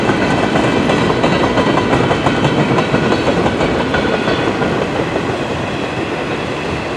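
A CN M384 northbound freight train rolls past close by at Port Huron, Michigan, with loud, steady rumbling and rhythmic clickety-clack from the wheels. The sound holds for seven seconds and eases slightly toward the end, with no voices.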